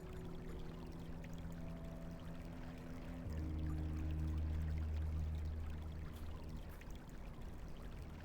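Liquid pours in the Black Mirror II adventure game, a continuous gurgling stream that swells in the middle and holds steady, quiet and alone without talk.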